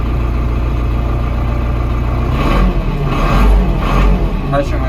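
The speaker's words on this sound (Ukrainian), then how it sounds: "що генератор справляється повністю" An ENEY TB904 generator engine runs steadily under load, a loud low hum throughout, with people talking over it in the second half.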